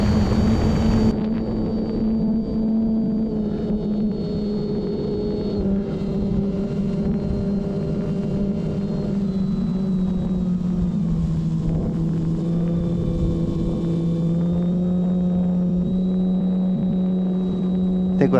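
An RC airplane carrying two mounted cameras flies out low and slow in wind, its steady motor drone and hum continuing throughout, with a slight pitch shift partway through.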